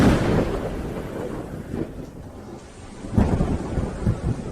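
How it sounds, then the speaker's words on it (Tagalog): Deep thunder rumbles in two heavy rolls over a steady wash of rain and wind, close and loud, with no voices. "Umulan na, umulan na."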